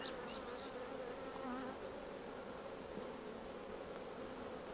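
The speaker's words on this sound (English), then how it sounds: "Each one of these frames are covered with bees, and they're drawing out the comb" A dense, steady hum of many honey bees buzzing together on hive frames during a hive inspection, close and continuous, with no talking.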